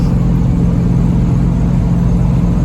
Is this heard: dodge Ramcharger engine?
yes